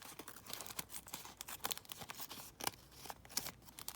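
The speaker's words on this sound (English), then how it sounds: "I'm just going to tear this off." A paper CD envelope is torn off by hand, giving close, crackly rustling and tearing with sharp papery bursts throughout, with no talking.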